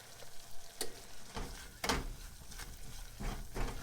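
Flour cooks in a pan for creamed corn with a soft, low sizzle. Scattered stirring scrapes and taps stand out near the start and middle.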